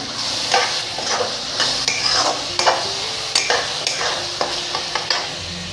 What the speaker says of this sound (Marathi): आता याच्यामध्ये आपण बारीक चिरून घेतलेली शिमला मिरची घालूया आणि एकत्र करून घेऊया